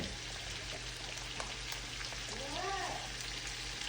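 Vegetable and beef broth poured into a cooking pot for green chili: a steady, faint hissing trickle that continues throughout, with a soft voice briefly in the background.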